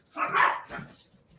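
A dog barks in a quick burst of one or two sharp, fairly close barks that fade out, with no talking.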